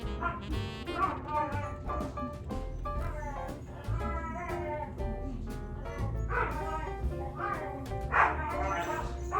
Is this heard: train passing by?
no